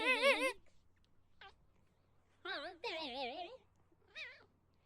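A cat meows several times in short wavering bursts, fairly close and clear, with quiet pauses between the calls.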